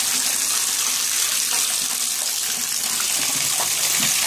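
Water gushing steadily from a tap into a bathtub, a loud, continuous close rush with a few faint splashes beneath it.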